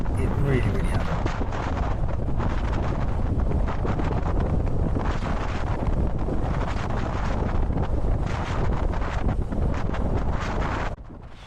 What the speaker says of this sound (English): The wind is just blowing me over and I cannot keep the bike central at all